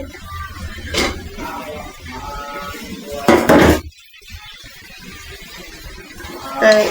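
Hilsa fish pieces go into hot oil in a pan over fried spices, with a few sharp clinks and clatters of utensils against the pan and a short burst of sizzling, close by and fairly loud.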